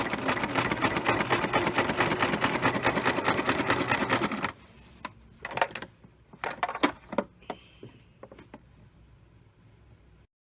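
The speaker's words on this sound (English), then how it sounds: "And continue sewing." A sewing machine runs steadily and loudly for several seconds while stitching the seams of a Christmas stocking, then stops, leaving scattered handling clicks and soft rustles of fabric.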